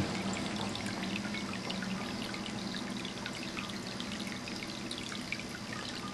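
Steady trickling and splashing water runs continuously and close by in a small ceramic fountain, a gentle even flow with no voices.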